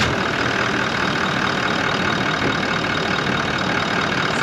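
A Toyota 79 Series Landcruiser engine runs at a steady idle after a rebuild, a loud, continuous close-up rumble with a fine mechanical patter and no talk.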